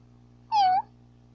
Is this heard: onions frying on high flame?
no